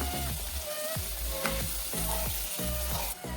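Vegetables for sambar fry in a pan while being stirred, with a loud continuous sizzle and regular scraping strokes of a spoon close by; no one speaks.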